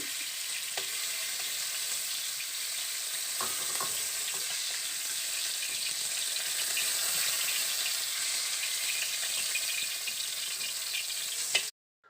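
Pointed gourd frying in a pan gives a steady, close crackling sizzle with occasional stirring scrapes, running evenly until it cuts off abruptly near the end.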